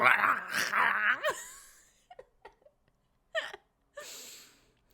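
A voice imitates a dog or wolf howl in a rising, wavering wail, followed by a few short faint yelps and a breathy burst, with pauses of near silence between them.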